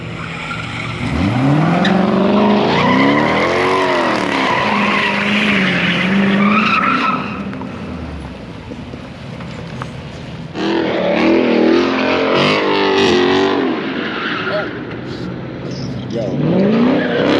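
A car spinning donuts, its tires skidding and squealing loudly with a revving engine in long sustained bursts, easing briefly at the midpoint before screeching again.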